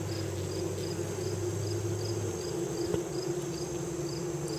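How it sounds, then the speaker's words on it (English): Honey bees buzz around an open hive box in summer, a continuous low drone under steady insect chirping outdoors, fairly close and even throughout. "they're not coming out to bump my hands or anything like that from being over the hive"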